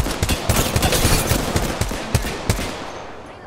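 Rapid automatic gunfire in the battle royale shooter Apex Legends, a loud, close burst of sharp shots in quick succession, with a few heavier isolated cracks near the end.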